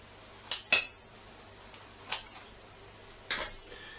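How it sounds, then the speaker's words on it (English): A knife or cutter cuts into a crispy homemade pizza baked in a conventional kitchen oven, making a few light, sharp crunching clicks against the plate, scattered and close. "But now, of course, let me cut into the pizza."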